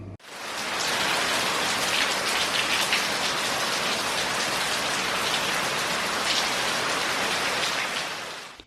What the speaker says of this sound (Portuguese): Engrossou agora a chuva